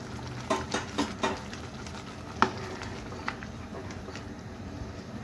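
Boiled dal simmers in a pot while a spoon stirs it, giving a soft, low bubbling hiss with a few knocks and scrapes early on and one sharper tap midway.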